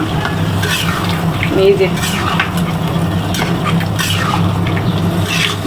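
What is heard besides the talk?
beef poured into the cooking pot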